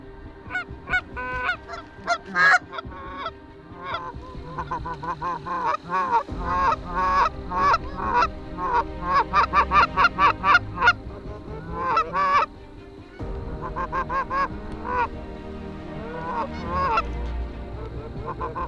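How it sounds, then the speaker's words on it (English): Canada geese honk loudly and repeatedly during an early-season goose hunt in Wisconsin, a raucous flock calling in overlapping bursts that swell and fade, close and alone. "Geese roosted close, but a ton of birds in the area."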